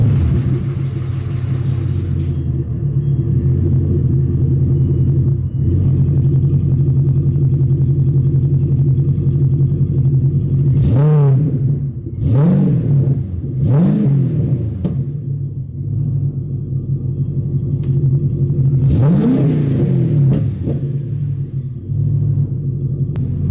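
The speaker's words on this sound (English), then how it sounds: "A bit of cold start action for you." A Ford BA Fairmont Ghia with a failed transmission but a healthy engine is cold started, then idles in a steady low rumble with several sharp blips of revving and a slightly ticky note.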